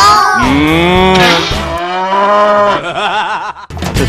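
A loud cow moo sound effect, drawn-out and wavering, repeated in several bellowing calls back to back.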